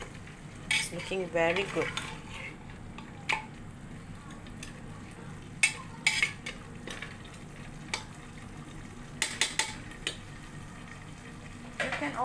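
Mutton curry is stirred in a pot, with a spoon scraping and clinking against the metal in scattered bursts over a low sizzling simmer, and a voice speaks briefly near the start.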